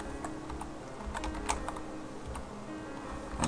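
Fast typing on a computer keyboard while writing C# code in Visual Studio 2010, with rapid clicking keystrokes and a few sharper key hits, close by with a low background hum.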